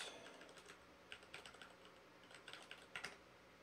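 Rapid, uneven keystrokes on a computer keyboard, close and fairly quiet, with small bursts of louder clacks over a few seconds and no voices.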